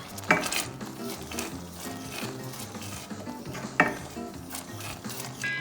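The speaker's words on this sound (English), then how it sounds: "And stir it for a little bit." A spoon scrapes and clinks against a pan while sauce with salt and sugar is stirred, with a soft sizzle running underneath and two sharper metallic knocks standing out.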